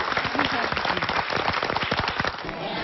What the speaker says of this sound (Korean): 저희 축하의 박수 보내드리죠